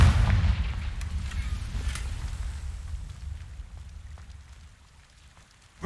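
A Confringo blasting spell goes off in the game Hogwarts Legacy, opening with a heavy booming burst that rolls into a rumbling decay and fades over several seconds.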